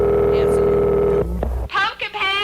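A telephone rings over the radio during a 1973 Boston Halloween broadcast, a steady electronic ring tone for about a second before it cuts off and a voice briefly speaks.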